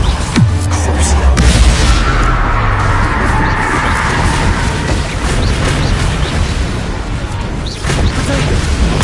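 A Bombarda explosion spell goes off in a Hogwarts video game, opening with a heavy low boom and swooping tone, then a long loud rumbling crackle of debris that trails on, with a voice briefly calling out.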